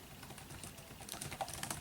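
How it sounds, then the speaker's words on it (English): Light, quick typing on a computer keyboard, a run of small close clicks at an uneven pace that grows slightly busier toward the end, quiet against a faint room background. "Typing. You can hear me typing now."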